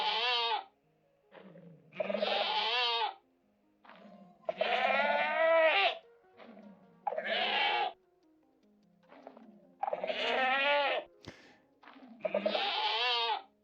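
Goat screams from note blocks in Minecraft ring out in six loud, close, wavering bleats, separated by short silent gaps, with no talking.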